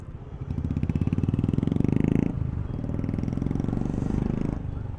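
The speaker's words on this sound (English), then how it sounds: "I can hear the exhaust still here. It is that loud." A Royal Enfield motorcycle exhaust burbles steadily nearby, a rapid pulsing thrum that swells, dips briefly, then rumbles on at a constant throttle.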